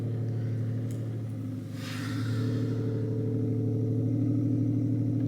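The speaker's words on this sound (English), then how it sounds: "This robo-car, okay." A car passes by with a brief whoosh over a steady, droning engine hum that stays loud and close throughout.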